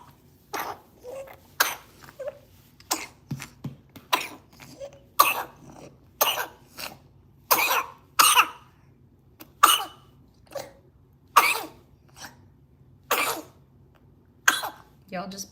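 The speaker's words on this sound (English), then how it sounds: "I'm kind of just monitoring him with this cough" A congested child coughs repeatedly, short harsh barks and throat-clearing bursts recurring roughly every second or so, close and fairly loud over a quiet room background.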